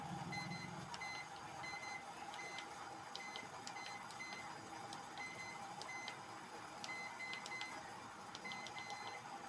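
A microwave oven's keypad buttons are pressed one after another during a repair, giving a string of short, high electronic beeps in irregular clusters. The beeps are faint over a steady background hiss.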